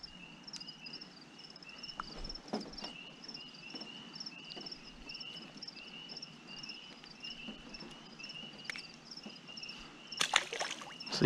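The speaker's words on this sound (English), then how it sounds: "catch a few crickets as they come out of hiding" Crickets chirp in regular pulsing trills at a spring bream fishing camp, faint and steady, with scattered sloshes and handling knocks near the water and a louder splash near the end.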